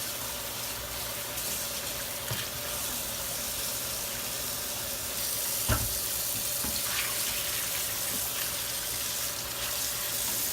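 Tap water runs steadily into a sink while ceramic aquarium filter media is rinsed, giving a constant close splashing hiss with a few faint knocks.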